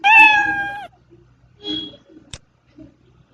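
A single clear cat meow, drawn out and close, followed by a few faint clicks and soft noises in an otherwise quiet space.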